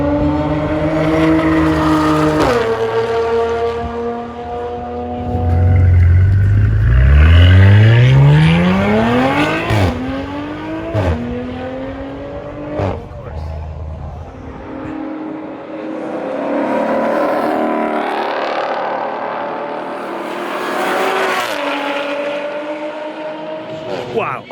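A race car laps Laguna Seca Raceway loud and close, its engine revving up through the gears and dropping on the overrun, with a sweeping rise under hard acceleration and clattering shifts.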